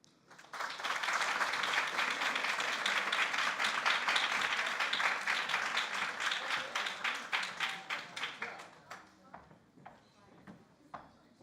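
A patient-meeting audience claps after a medical presentation, steady dense applause building quickly, holding, then thinning into scattered individual claps before fading out, fairly distant.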